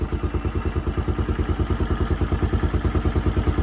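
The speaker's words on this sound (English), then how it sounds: "It's idling absolutely perfectly." A Kawasaki KLF300 Bayou 4x4 quad idles close by with a steady, even low thumping beat and a faint mechanical clatter, running alone without talk.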